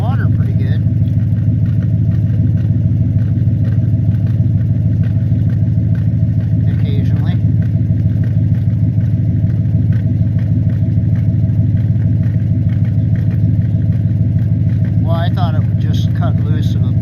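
Car engine idling with an ice-blocked, frozen tailpipe, a loud, steady low rumble close by throughout, with someone talking over it at points.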